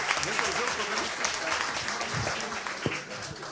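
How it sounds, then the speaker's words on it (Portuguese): A crowd at a public hearing in Belo Horizonte claps in a loud, dense wash of applause, with scattered voices and cheers mixed into the sustained patter. "Uma salva de palmas para Teófilo Otoni."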